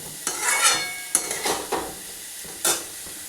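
Salt, turmeric and sugar being stirred in a cooking pan, with a few scraping strokes and soft sizzling in separate bursts, close and moderately loud, no talk.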